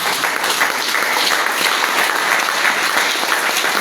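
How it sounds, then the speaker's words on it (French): A church congregation at a Sunday service applauds together, a dense, steady wash of clapping hands that fills the space evenly for several seconds at strong volume, with no voices rising above it. "Acclame la parole de Dieu."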